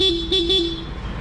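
Three short honks from a Honda PCX 160 scooter horn, close and loud, the first two quick and the last held a little longer.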